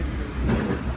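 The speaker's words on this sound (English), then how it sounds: "Oh, I see a train way back there." A Long Island Rail Road train rumbles steadily nearby, a continuous loud low-pitched rolling noise with no pauses over a single second.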